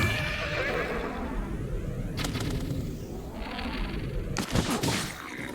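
A horse neighs in Zelda: Breath of the Wild amid game effects, a whinny near the start followed by sharp bursts of impact sound, while a player talks over it.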